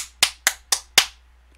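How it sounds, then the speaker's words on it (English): Four sharp hand claps ring out close and loud in an even rhythm, followed by silence. "Can you hear my fucking clapping"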